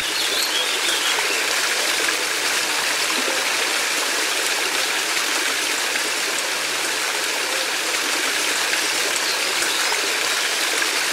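Steady rushing of a flowing stream, broadband and continuous throughout, with faint bird calls in the background.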